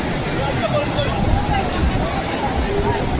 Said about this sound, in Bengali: আজকে অনেক ঢেউ সমুদ্রে